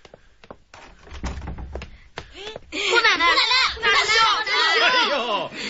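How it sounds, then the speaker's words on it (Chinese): In a police radio drama, a door is opened during a sting to catch thieves: a few dull knocks and thumps, then loud overlapping shouting voices burst in close by. "开门吧。"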